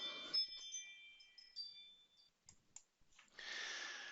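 Mouse clicks in VUE 3D scene software: a few faint, sharp clicks spaced apart in a quiet room, ending in a soft hiss, with no talk.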